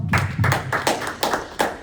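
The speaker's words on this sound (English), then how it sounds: "let's just give them a round of applause" At a community meeting on voter suppression, the room gives the speakers a round of applause, with several loud, evenly spaced claps standing out over a softer background of clapping.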